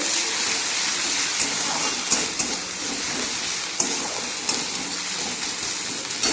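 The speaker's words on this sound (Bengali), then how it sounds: "তেল দিয়েছি অল্প, পেঁয়াজগুলো দিয়ে দিলাম।" Onions frying in a little oil in a pan, a steady broad sizzle that stays loud and even throughout, with a few soft clicks and no talking.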